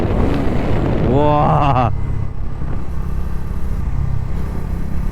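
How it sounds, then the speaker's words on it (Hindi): Exhaust of a Bajaj Dominar 250 motorcycle, a loud close engine note with a rising rev flare at the start, then a steady rumbling idle with wind noise, while someone speaks briefly. "सबसे ज़्यादा पसंद है देखो एग्जॉस्ट"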